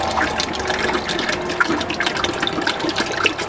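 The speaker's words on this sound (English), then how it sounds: "I'm gonna add the juice, the whole thing of V8." A whole bottle of V8 vegetable juice pours steadily and splashily into simmering spaghetti sauce, a continuous close gush of liquid lasting several seconds.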